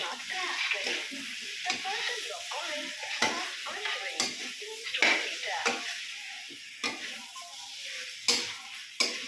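Potato pieces being stirred in a pan as chicken curry cooks, with soft scraping strokes and occasional clinks over a faint sizzle, close by and fairly quiet.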